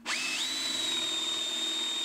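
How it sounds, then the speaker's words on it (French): A power drill bores partway into a piece of wood, stopping before breaking through. The motor spins up quickly and then holds one steady, loud whine with no voices. "Je ne perce pas complètement, juste de quoi faire dépasser la pointe."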